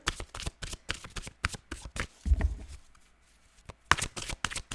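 Tarot cards shuffled by hand at close range in a quick, uneven run of riffling flutters and soft slaps, with a short lull partway through and no speech.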